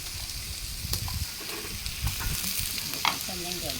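Pork sizzles on a Thai mookata grill at a home party, a steady close frying hiss with stirring clatter and a few short sounds from nearby.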